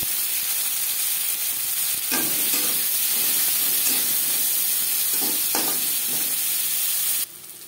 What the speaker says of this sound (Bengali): মাছ ভেজে নেওয়া তেলে দিয়ে দেবো পেঁয়াজ কুচি আর টমেটো।